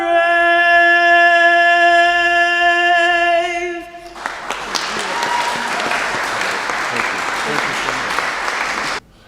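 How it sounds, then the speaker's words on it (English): A crowd at an outdoor LGBTQ flag raising ceremony in Brooklyn bursts into loud, sustained applause and cheering that fills the space for several seconds, following a sustained musical tone, then cuts off abruptly. "We want to give another round of applause to Yasmin Nash for a wonderful job"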